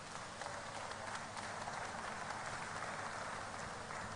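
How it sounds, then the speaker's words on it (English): Faint, steady applause from an audience after a startup pitch, a continuous wash of clapping that stays even throughout with no voices on top. "A big round of applause for him."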